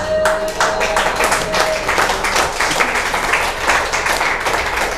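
A church congregation claps in praise during a worship service, a dense, continuous round of many hands applauding loudly and steadily, with faint voices mixed in beneath.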